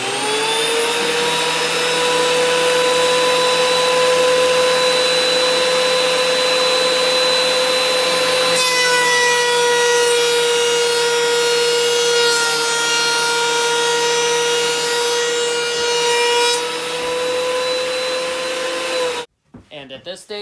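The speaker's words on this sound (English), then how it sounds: "Took it through the planer, be able to get this edge." A thickness planer runs construction lumber through in one long, loud, steady machine whine with a tonal hum, the pitch shifting partway as the board feeds, then cutting off abruptly near the end.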